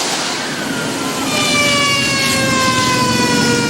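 Fire truck siren wailing as firefighters arrive at a burning Mercedes-Benz, a rising and falling tone that grows louder and steadier over a constant rumble of engine and street noise.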